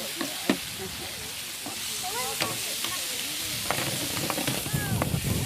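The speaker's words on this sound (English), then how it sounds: "I'm caramelising up the garlic and the onion" Garlic and onion sizzle in a hot frying pan, a steady hiss with occasional stirring clatters, heard close and moderately loud.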